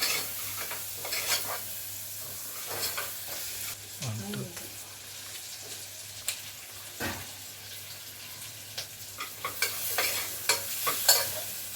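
Raw mango pieces frying in oil in a pan, a soft continuous sizzle broken by scraping stirs and light clinks, close and fairly quiet with no talk.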